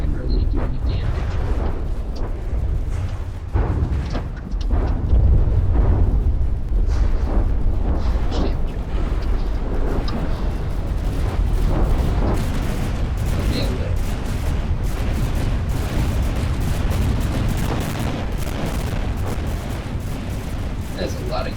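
Ship guns firing in a naval combat video game, a loud, continuous barrage of overlapping booms and rapid gunfire rumbling without pause, with someone talking over it.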